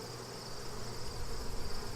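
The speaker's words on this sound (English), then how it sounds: "Sorry, bees." Honey bees drone steadily at an open hive during an inspection where brace comb was pulled from the inner cover, a dense continuous close buzzing that swells slightly toward the end.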